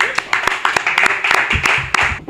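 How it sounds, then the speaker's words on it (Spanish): An audience at a book presentation in a restaurant breaks into applause, with sharp individual claps standing out over a steady crowd patter, lively and close. "Un aplauso, por favor."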